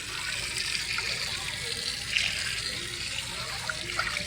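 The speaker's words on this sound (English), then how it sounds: "that's when you use the kitchen sink." Steady broadband water rushing from a tap running into a kitchen sink while cleaning Porsche 914 parts, continuous throughout with a few small clinks and splashes.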